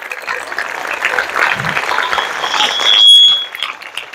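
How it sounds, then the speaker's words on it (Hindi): Students at a girls' junior college clap loudly as a one-minute energising exercise, a dense, rising burst of many hands that swells toward the end and then cuts off, with a brief high tone near the close. "लाउडली तालियां बजाना,"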